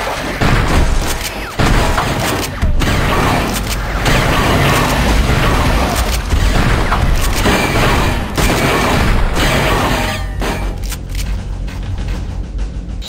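Shotgun blasts in the video game Turok 2 Remastered, set during an online multiplayer brawl: loud, dense, booming gunfire repeats almost continuously, with mechanical clacks between shots.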